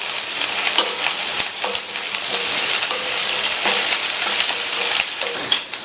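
Onion, ginger and garlic sautéing in a pan for a poriyal side dish, a steady loud hiss of frying with occasional spatula taps and scrapes, close and continuous without any voices.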